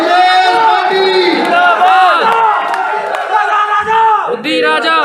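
Crowd at a Congress party political rally cheering and whooping in loud sustained bursts to welcome a speaker, with voices mixed through the din.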